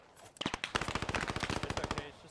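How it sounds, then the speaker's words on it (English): Rapid automatic gunfire from a weapon in the WWII shooter Post Scriptum, with about twenty sharp, evenly spaced shots in a sustained burst. The shots are loud and close, and no voices are heard. "Also shooting the gun."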